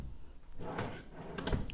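A wooden wardrobe drawer at a furniture shop in Benin City is pulled open or pushed shut, giving a few soft knocks and sliding thuds close by, with a louder bump near the end.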